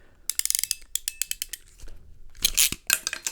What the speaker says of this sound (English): did you hear that first click? So the crimper has actually started to lock at this point